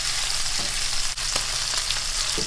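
Cajun chicken, just flipped, fries in a pan with a constant close sizzle and a few faint crackles and utensil ticks, alone without talk.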